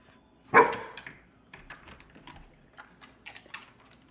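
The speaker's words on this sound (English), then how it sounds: "he literally would sit outside the closet and bark" A dog gives one sharp bark from inside a closet, followed by a scatter of softer, muffled yips and clicks over the next few seconds.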